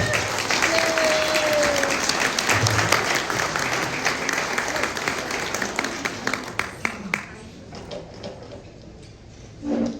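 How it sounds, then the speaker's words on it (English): A crowd at a political dinner applauds loudly with dense, sustained clapping that gradually thins and fades toward the end. "Let's hear it for Justin Geist."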